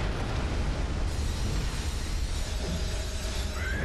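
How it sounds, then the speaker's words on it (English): Continuous roaring explosion blast during the Laurence boss fight in Bloodborne: The Old Hunters, dense and loud for about four seconds with no letup. "Explosions are bad."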